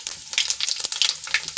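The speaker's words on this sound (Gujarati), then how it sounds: "હવે આપણે રાઈ ફૂટી જાય એટલે એમાં 1 ચમચી જેટલું જીરું એડ કરીશું" Mustard seeds and cumin sizzle and pop in hot oil for a brief stretch, a close, crackling hiss with small sharp spits scattered throughout and no voices.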